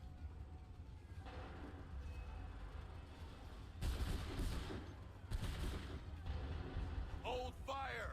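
Musket volleys in the Assassin's Creed 3 video game: after a tense rumbling lead-in, two heavy rolling bursts of massed gunfire crack out, followed by a short shouted voice at the end.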